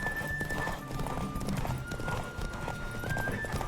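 A horse in The Witcher 3 video game gallops with steady, rapid clip-clop hoofbeats and lets out a high neigh, loud and close throughout.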